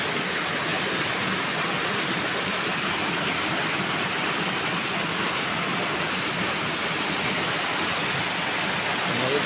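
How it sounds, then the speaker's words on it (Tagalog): A large creek beside an old Japanese imperial tunnel flows with a continuous, loud rushing roar of water, steady and broadband throughout with no pauses, heard alone without talking. "Pamunta doon, malaking sapa."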